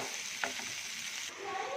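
Tomatoes sauté in a pan for a spicy okra roast, giving a steady, close sizzling hiss with a brief stirring scrape partway through, no speech.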